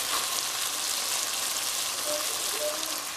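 Chicken frying in a pan, a constant dense sizzle and crackle throughout, close and fairly loud, with faint talking underneath.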